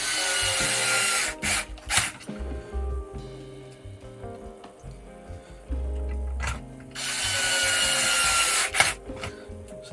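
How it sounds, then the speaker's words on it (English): Cordless drill with its clutch set to the lowest setting driving a 12mm bolt while assembling a Midnight Pumpkin build, heard as two long bursts of close, loud whirring separated by quieter clicks, knocks and handling of parts. "with this cordless that I'm using, this one does have a clutch, so I've put the clutch on the lowest setting so it will actually click out"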